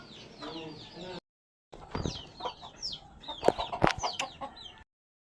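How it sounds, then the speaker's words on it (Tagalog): Several chickens clucking and squawking nearby in short bursts, with a brief pause of silence and faint voices mixed in. "Dar, mga manok!"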